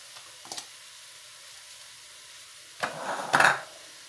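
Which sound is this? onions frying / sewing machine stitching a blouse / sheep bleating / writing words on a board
onions frying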